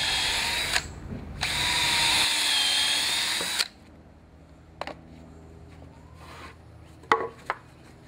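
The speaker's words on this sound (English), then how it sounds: "pre-drill right where your 45 degree angle ends" Power drill pre-drilling pieces of lumber for a wooden potting bench, two close bursts of high whirring, the second held for several seconds, followed by quiet clicks and knocks of handling wood.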